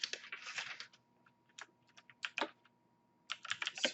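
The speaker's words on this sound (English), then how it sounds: "you are going to type" Keys clack on a computer keyboard while a short line of text is entered, coming as quick bursts of close, crisp taps separated by brief pauses, with no talking.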